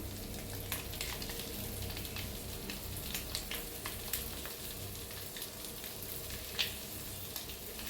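Eggs frying in a pan make a faint, steady sizzle with soft, irregular stirring taps and scrapes, quiet and without talk.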